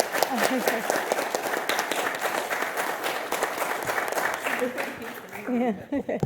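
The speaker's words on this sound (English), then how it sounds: "And Sandra, I'm not sure, can you come to the middle of the stage so we can applaud you and Rinchu at the same time" Audience applause for award winners at the closing plenary of an innovation prize ceremony: sustained, dense clapping throughout, with voices talking and calling out over it near the end.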